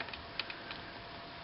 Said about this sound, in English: the wheel rotates opposite of a normal sewing machine that has a belt drive